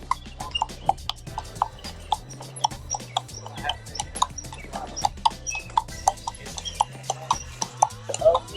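Horse hooves clip-clop in a steady, even rhythm on pavement during a Central Park carriage ride, with people talking quietly beneath the hoofbeats throughout.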